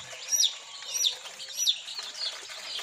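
KUB chickens, an Indonesian superior native breed, cluck and chirp in a series of short repeated calls, fairly close and clear, with no talk over them.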